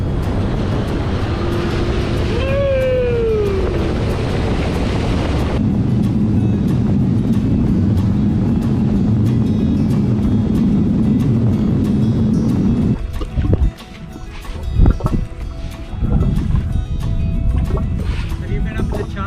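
A boat engine drones loudly and steadily while the hull slams through breaking waves, the roar briefly dropping and sputtering near the end as the engine lifts clear of the water, then picking back up; a voice speaks over it.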